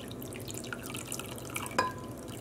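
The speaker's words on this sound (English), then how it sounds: "pouring water directly on it is kind of helping" Water poured straight onto a sticky, gloopy residue, a close, steady wash of running water with small drips and splashes and a brighter splash near the end, with no talking.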